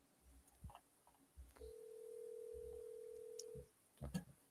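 A telephone is dialed to place a call, with short quiet tone bursts, then a steady held tone lasting over a second, followed by a few more clicks and beeps.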